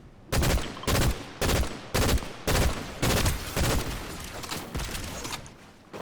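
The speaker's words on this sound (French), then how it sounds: "c'est qui nous tire dessus?" Gunfire in the video game Fortnite: about seven loud, evenly spaced shots ring out one after another, each with a short decay, with no talk over them.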